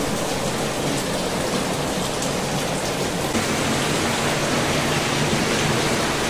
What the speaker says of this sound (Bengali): 10 মিনিট ধরে বৃষ্টি হয়ে যাচ্ছে